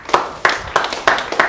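An audience claps in a steady rhythm, five sharp, close, fairly loud beats roughly a third of a second apart, at a health lecture session.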